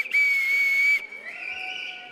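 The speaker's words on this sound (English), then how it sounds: "Please stand, blow those whistles." Whistles blown by a standing audience at a gala roast event: one long shrill blast cuts off, then several overlapping whistles sound together, loud and sustained in a large room.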